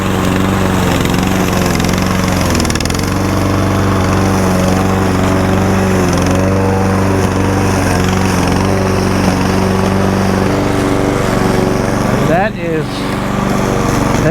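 A cheap Chinese RC lawn mower climbs a steep grassy incline, its small engine buzzing loud and close in a constant drone that strains briefly near the end, with a voice talking over it.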